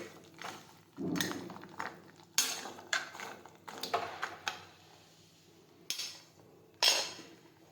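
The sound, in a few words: mixing food in a pot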